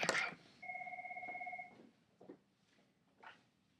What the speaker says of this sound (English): I am getting a phone call right now.